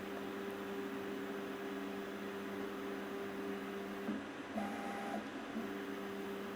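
A Creality K1C 3D printer hums steadily while printing, its motors holding a constant tone over fan noise, with a brief shift in pitch near the end.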